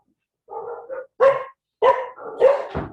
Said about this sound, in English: mga dogs po nagwawala